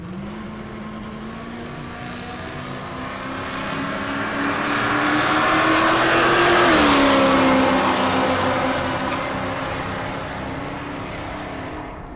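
A 1968 Chevrolet El Camino and a Fox-body Ford Mustang launch side by side at a drag strip, their engines roaring and revving up as the cars pass close by and then fade away down the track.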